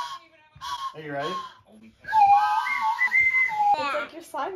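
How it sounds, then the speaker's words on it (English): A toy slime whistle is blown indoors during family Christmas tree decorating, producing sliding, warbling whistle tones that rise and fall over a couple of seconds, with children and adults talking around it. "It's like your slime whistle."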